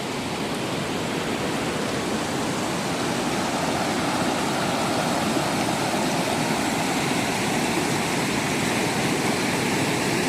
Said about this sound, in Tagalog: Apaw siya dito sa spillway, oh.